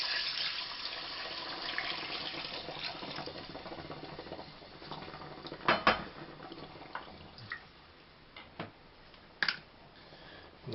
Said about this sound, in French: après avoir fait revenir ma viande, j'ajoute de l'eau chaude